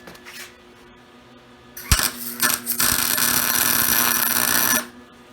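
Tack welding on a go-kart frame built from a shopping cart: a couple of sharp crackling bursts, then a loud, steady sizzling run of about two seconds, close by, with no talking.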